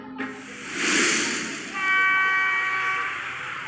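A train near Indore railway station, heard as a hissing rush of air followed by a sustained, bright horn-like tone, loud and close, with no talk.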